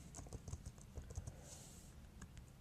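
Names being typed into an Excel spreadsheet on a computer keyboard: quiet, quick, irregular keystrokes close by, clicking in short bursts with no talking.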